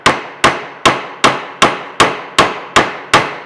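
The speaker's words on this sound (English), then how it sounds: "I'm going to take my trusty old 90-year-old ball peen hammer here" A 90-year-old ball peen hammer strikes a hole punch set into a leather belt, nine sharp, evenly spaced metallic blows landing about every 0.4 seconds, loud and close with no voices.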